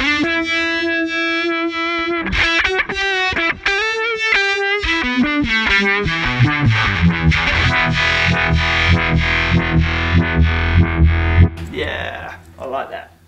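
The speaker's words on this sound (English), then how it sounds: "the vibe is really good on this if I put the distortion on as well" An electric guitar through a Line 6 Helix with vibe and distortion effects plays a rising run of notes, wobbling, thick and buzzy, ending in a brief noisy scrape.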